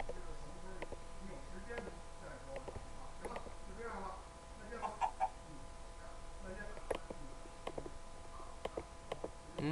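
Video-game chicken in a Minecraft-style world, sounding as several short, quiet clucks scattered through the passage alongside faint clicks and other game effects, with a person talking at times.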